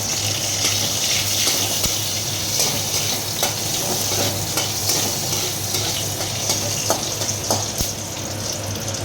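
Black mustard seeds and two or three dried red chillies sizzle loudly in hot mustard oil, a dense, steady crackling hiss with scattered pops, close and continuous.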